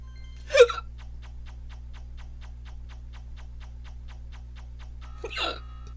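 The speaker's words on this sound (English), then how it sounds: "Oh, now I got hiccups." A person hiccups twice, about five seconds apart. Each hiccup is a sharp, fairly loud vocal catch. A steady quiet ticking and a low hum run underneath.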